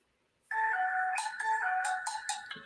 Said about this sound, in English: Sorry about the phone call.